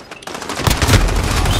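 Rapid automatic gunfire in Modern Warfare, a loud, dense burst of fast shots running continuously through most of the moment after a short quieter start.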